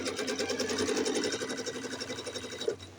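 Sewing machine stitching quilt pieces, a quick steady run of needle strokes in a rapid even rhythm, close and moderately quiet, stopping briefly near the end.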